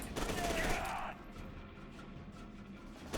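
A grenade blows up in the shooter game FEAR 2: a short, crackling, rumbling blast for about a second, then a quieter tail of debris and ambient game noise.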